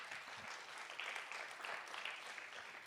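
A pitch-night audience claps for two startup pitchers at an Occitanie entrepreneurship event, a dense, steady wash of applause that holds at even loudness throughout, with no voices over it.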